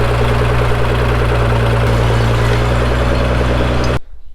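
A narrow nose tractor engine idles steadily and loud with a low, even rumble, then cuts off abruptly near the end, leaving near silence.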